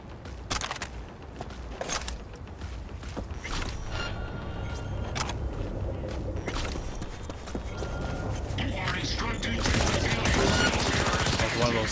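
Rapid bursts of smart-weapon gunfire in Cyberpunk 2077 rattle through mechanical clicks and clatter, growing louder and denser toward the end.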